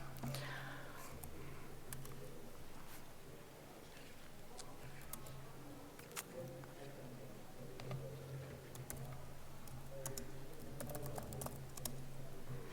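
Java code is typed on a computer keyboard in a steady run of close, soft key clicks with brief pauses, faint and continuous throughout.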